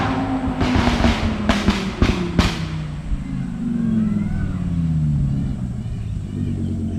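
Purple Lamborghini Huracan engine rumbling low and steady, with a few sharp clicks early on and a rising tone as it draws nearer, loud and continuous against background noise.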